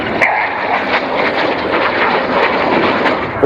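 Aerobatic display aircraft flying through a carousel manoeuvre at the RIAT airshow, a loud, steady engine roar with rumbling broadband wash and small swells in level throughout.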